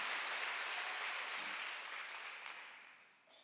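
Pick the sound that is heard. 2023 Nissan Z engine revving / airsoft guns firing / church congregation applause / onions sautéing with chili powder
church congregation applause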